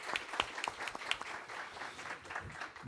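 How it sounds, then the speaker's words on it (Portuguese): Applause for a panelist at a business innovation event, fairly faint clapping with a few distinct sharp claps early on before thinning into a soft patter. "Uma salva de palmas para a Ana, por favor."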